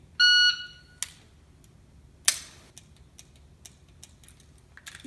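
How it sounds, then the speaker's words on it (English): A shooting range shot timer sounds one loud, steady electronic beep lasting about a second, followed by a sharp crack and quieter scattered ticks and clicks. "which you'll know by a second beep from the timer"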